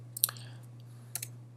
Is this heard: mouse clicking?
yes